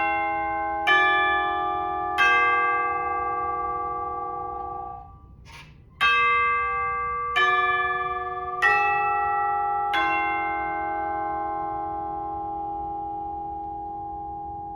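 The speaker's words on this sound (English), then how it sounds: "That little melody there has a specific name, and it's called the Westminster Chimes" Ringing chimes strike the Westminster Chimes melody slowly, about eight clear bell tones spaced a second or two apart, each one ringing out and decaying, with no talking.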